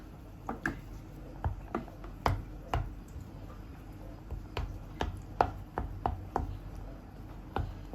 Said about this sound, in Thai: ตีให้หมูสับ แตกนะคะ ทำหมูสับ ไม่ให้จับ เป็นก้อนกันนะคะ